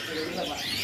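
A belatik calls amid other caged birds at a bird market, soft chirping and cooing notes layered over busy market chatter and background voices.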